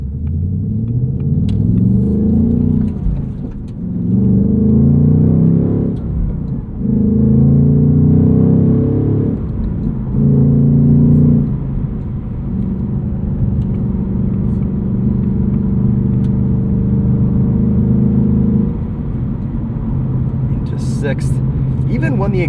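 A 2024 Ford Mustang Dark Horse with a 500 hp engine and 6-speed manual cruises on a highway with the exhaust in track mode, a loud low rumble swelling through several gear pulls, then settling into a steady drone.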